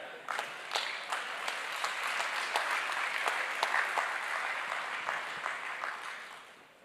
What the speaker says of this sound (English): One more round of applause to our panelists.